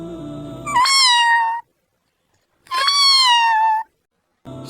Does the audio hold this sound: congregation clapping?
no